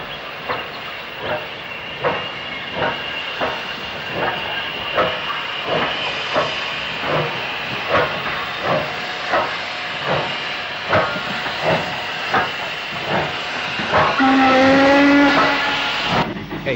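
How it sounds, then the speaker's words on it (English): LMS Black 5 steam locomotive No. 45268 arriving beneath a footbridge by a depot, with a steady rhythmic chuffing beat and continuous steam hiss, then a brief whistle-like tonal burst near the end. "45268 arrives under the footbridge,"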